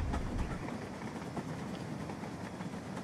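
Steady rumble and rhythmic rail clatter of a train running on track in the railway game Rolling Line, continuous and fairly close for the whole stretch, with no talking.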